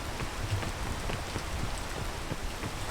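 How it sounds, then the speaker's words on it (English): Steady rain in the video game PEAK falls as a dense, even hiss with scattered droplet taps, continuous and fairly close, with no voices. "I can see through the rain"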